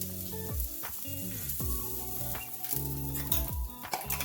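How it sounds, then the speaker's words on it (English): Extra large organic eggs scramble in an unwashed pot left over from sautéed veggies, giving a steady close sizzle broken by repeated scraping stirs of the spatula. "I removed the veggies, so I'm just gonna scramble the egg."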